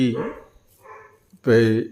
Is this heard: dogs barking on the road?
yes